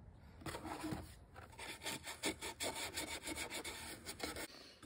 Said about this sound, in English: let's sand down the sound hole so all the frayed wood is gone